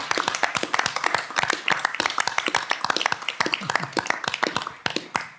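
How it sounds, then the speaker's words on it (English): A Future Melbourne Committee meeting room applauds Jack Hanna with a few seconds of close, crisp, steady hand clapping from a modest group, individual claps distinct and continuous throughout. "How about we give him a big round of applause?"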